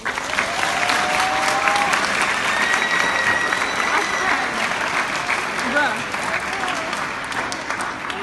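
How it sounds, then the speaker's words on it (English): Sustained applause from a graduation audience, loud and dense, with a few cheers and whistles rising through it and voices mixed in toward the end. "Since they all deserve it, let's give them a round of applause."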